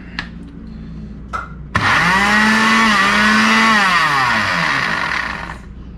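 A blender whirs through a mixed berry smoothie with ice. A few light clinks come first, then the motor kicks in abruptly and runs loud and steady for several seconds before easing off.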